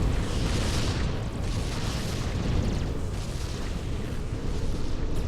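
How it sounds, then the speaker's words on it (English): Missiles explode in the space strategy game Sword of the Stars, a dense, continuous rumbling roar of blasts that holds steady and loud with no talk over it. "Oh, missiles!"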